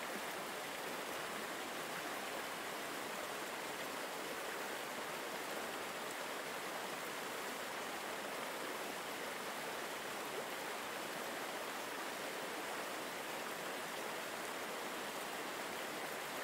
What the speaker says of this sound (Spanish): El sonido constante de la cascada actúa como un ruido blanco natural